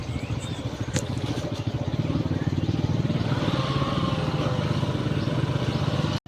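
A motorcycle engine putters steadily and fairly loud close by, its rapid pulsing drone holding an even pace the whole time.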